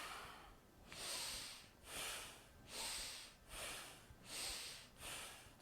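Six slow, rhythmic breaths during a yoga exercise, each a soft airy rush about a second long, close to the microphone and quiet, with short pauses between them and no talk.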